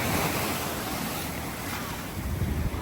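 Ocean waves wash continuously onto the beach at Seaside Heights, New Jersey, a loud broad surf roar mixed with gusty wind buffeting the microphone.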